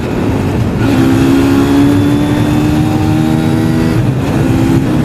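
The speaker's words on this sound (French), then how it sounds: "on va un petit peu augmenter le rythme pour que vous voyez un peu ce que donne le moteur" A Derbi Mulhacen Cafe 125 motorcycle engine revs up steadily under acceleration on the road, its tone rising and holding in a strong, continuous drone close by, with wind noise throughout.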